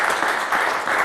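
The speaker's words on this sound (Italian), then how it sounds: "facciamo un applauso a Claudio perché è sempre molto preciso" An audience at a quiz show between Majano and Moimacco bursts into applause for a contestant, a dense, steady wash of clapping that fills the short moment.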